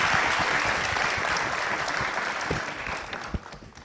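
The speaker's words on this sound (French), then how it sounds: "Je vous demande d'applaudir" An audience at a school awards ceremony in Guinea applauds warmly, a thick, sustained roar of clapping hands that stays loud and gradually eases off toward the end.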